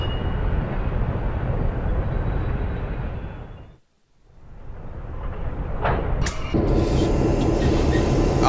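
CSX C37 locomotive in Train Simulator 2017, a heavy rumbling train drone that fades to near silence midway, then builds back up with higher metallic tones and clanks joining as it grows loud again.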